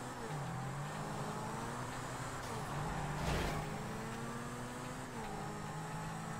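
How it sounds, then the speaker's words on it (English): In the Grand Theft Auto video game, the Knight Rider car gives a steady car engine drone with a faint whining tone, with a brief swell partway through and no talking. "He's the only one that makes a noise from the Night Rider car."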